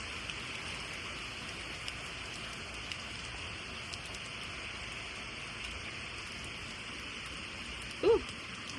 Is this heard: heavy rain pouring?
yes